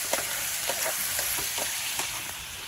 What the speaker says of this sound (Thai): ลวนไปเรื่อยลวนกบนะครับ ลวนให้สุกเลยนะครับ